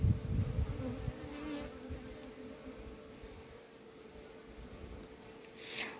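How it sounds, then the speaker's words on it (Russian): Bees buzz steadily around a hive during queen rearing, a dense close hum that is loudest at the start and then settles into a continuous drone with no talking. "Здесь пчелка есть."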